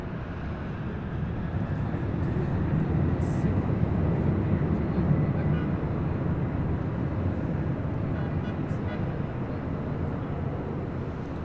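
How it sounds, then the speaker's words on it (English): A Delta Airlines Boeing 767-300ER takes off from LAX, bound for Atlanta, giving a steady, loud, broad roar of jet engines that holds throughout. "This is Delta Airlines Flight 700 taking off to Atlanta on a 767-300ER."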